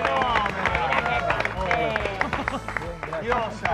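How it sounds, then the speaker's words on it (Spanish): A studio audience applauds for Lita De Lazzari on the Argentine TV show Videomatch, with steady clapping and crowd noise running under a loud voice speaking throughout. "Un aplauso para Lita"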